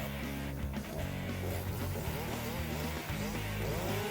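A Husqvarna 257 and a Poulan Pro 330 chainsaw revving together outdoors before cutting a red oak log, a loud, dense, continuous two-stroke whine with rising and falling engine pitch throughout.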